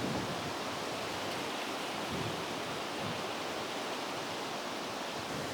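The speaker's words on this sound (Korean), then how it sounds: "드넓은 바다 앞에서 파도가 밀려오고 밀려가는 것을 바라봅니다." Ocean surf washing onto a shore by a wide sea, heard as a steady, full hiss and roar that holds an even level throughout without clear breaks between waves, with no voices.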